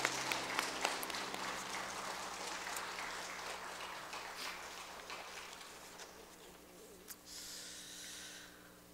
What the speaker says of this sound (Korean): 다시 한번 큰 박수로 축복합시다